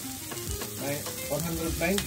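Green beans and mushrooms sauté in a hot pan, soft sizzling with stirring scrapes and clinks, close and moderate, no talk.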